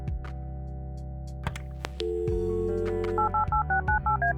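A hotel room phone in the adventure game Kathy Rain has its handset lifted, a dial tone plays, and a quick series of short electronic touch-tone beeps follows, with faint game music underneath.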